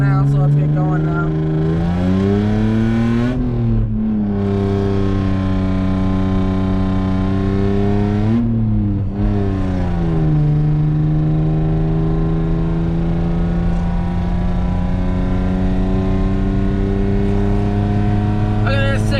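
A Toyota Chaser's engine pulls loud and close through rising gears as the car accelerates from a standstill to 60, with the pitch climbing, dropping at two shifts, then holding a steady drone.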